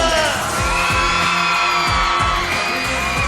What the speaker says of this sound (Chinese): 所有朋友们，尖叫声给我们！